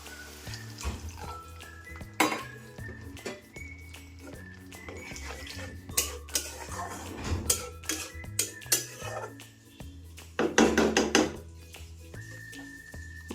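Spice paste for a soybean and egg curry fries in a pan while a spoon scrapes and clinks against it in irregular strokes over a faint sizzle, with no talk.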